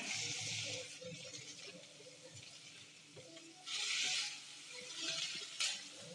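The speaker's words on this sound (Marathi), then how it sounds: "कांदा परतून घेऊया" Onions sautéing in oil in a kadhai, a steady soft sizzle with scraping stirs and light utensil clatter, swelling into louder bursts of hiss near the end.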